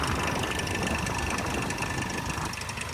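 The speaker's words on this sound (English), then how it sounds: "Yeah, it has an engine tick." A 15-year-old Chevy Malibu sits idling with an engine tick, giving a steady, close, continuous engine drone with a fine ticking texture and no talking.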